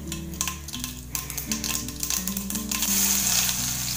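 Mustard seeds dropped into hot oil in a home kitchen pan, crackling and popping sizzle that builds steadily and grows brighter over a constant background drone.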